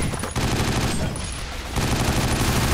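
Heavy automatic gunfire in 50 Cent: Blood on the Sand, a loud, dense stream of shots that pauses briefly near the middle and then resumes, with little or no talk.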